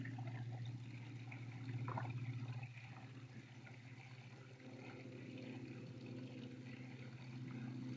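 Water pours and trickles steadily into a small garden pond lined with gravel, a continuous close splashing wash with a hum underneath, slightly louder for the first few seconds.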